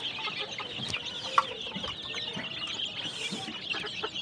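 Chickens on a poultry farm clucking and calling intermittently at moderate distance, soft and scattered over a faint background hum, with one brief sharp sound among them.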